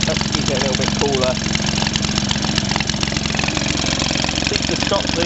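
A vintage 1946 Maytag model 72D washing machine engine running steadily at about 1350 rpm, a loud, even chugging with rapid regular firing pulses, with someone talking over it.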